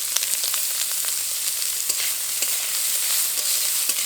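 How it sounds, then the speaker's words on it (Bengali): Mustard oil crackles and sizzles steadily in a hot wok while banana stem begins frying, a close, continuous hiss with small pops and no voices. "এরকম ছড়িয়ে ছড়িয়ে দেবো, তাহলে সব দিক থেকে ভালোভাবে ভাজা হবে।"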